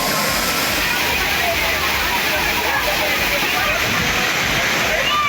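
Thirparappu waterfall after flooding thunders down in a loud, continuous roaring rush of water that fills the whole scene without a break.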